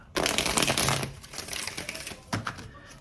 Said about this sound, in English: There's nothing more satisfying than shuffling my cards.